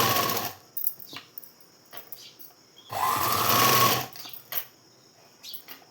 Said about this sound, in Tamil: அந்த 1/2 இன்ச் அளவுக்கு அப்படியே ஒரு தையல் ஓட்டிக்கலாம்